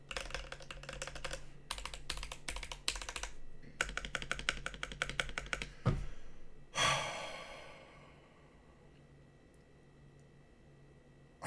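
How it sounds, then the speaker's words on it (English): A Nyxkeys Athena65 mechanical keyboard types in rapid bursts of crisp, close clacks with short pauses, followed by a loud breath or sigh and then near silence. "Alphas sound really good."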